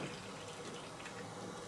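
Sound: water filling a hydroponics container

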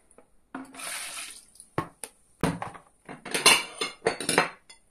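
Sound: plates clinking as they are placed

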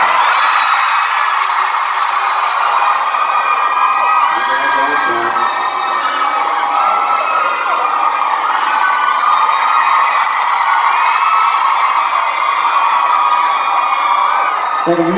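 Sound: concert crowd screaming and cheering at a show

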